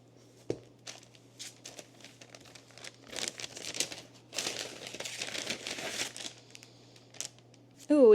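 Paper crinkles and rustles in close, irregular bursts as books are decorated after an unboxing, with light handling taps and a brief tone at the end.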